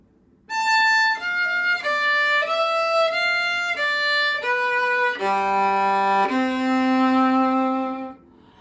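A bowed violin plays a short passage of a shifting etude, sustained notes each held about half a second, moving stepwise before ending on longer low notes.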